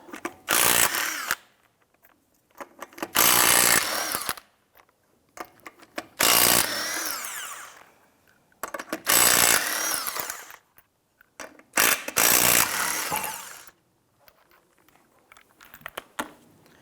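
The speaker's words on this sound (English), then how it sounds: "Using your 19mm socket, loosen and remove the 5 lug nuts." Impact gun with a 19mm socket loosening and spinning off five lug nuts from a car wheel of a 2005-2007 Ford Five Hundred, several loud buzzing bursts separated by short pauses, with no talk.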